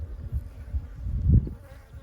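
Bees buzzing close around an apiary, a low, wavering drone that swells and fades as insects pass near the microphone, alone with no talk.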